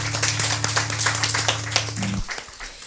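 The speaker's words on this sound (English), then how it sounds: "Let's give a big round of applause to the band." Applause for the band at a regional Sunday church service, a steady patter of many hands clapping over a sustained musical tone that cuts off near the end.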